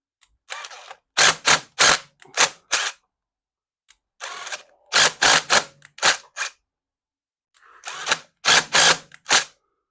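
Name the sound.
impact wrench working chain rivet tool on motorcycle chain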